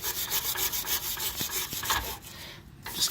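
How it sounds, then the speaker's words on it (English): A brush scrubs grungy fuel feed line fittings on a 1995-1999 Chevrolet/GMC Suburban, a series of quiet rhythmic rasping strokes, close and alone. "mine are kind of grungy, so I'm going to take a brush to them."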